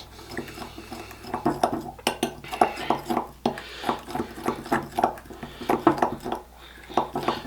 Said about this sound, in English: And then we're just going to whisk this together as well.